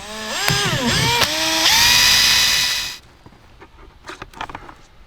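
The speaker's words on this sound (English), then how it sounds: "So I'm gonna go ahead and drill 2 holes in this little notch here" A power drill whines loudly at close range while drilling holes in plastic on a kayak, revving up and down in short bursts for about three seconds, then stops, leaving faint clicks and handling noise.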